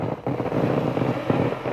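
A diesel heater running in a dual-heater unit makes a steady, close, broadband whirring roar with a faint rhythmic pulse and a little wind buffeting, with no voices.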